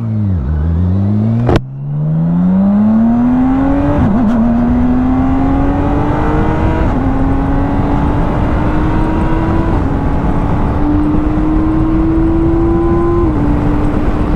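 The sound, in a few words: motorcycle engine accelerating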